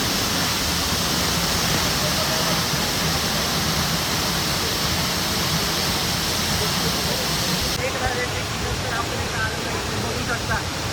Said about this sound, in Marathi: आहे धबधबा।